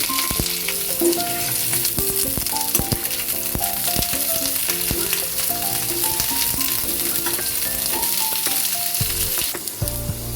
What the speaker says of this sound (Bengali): কুমড়ো আর আলু কিছুটা ভেজে নেওয়ার পর ডুমো ডুমো করে কেটে রাখা বেগুনটা দিয়ে দিচ্ছি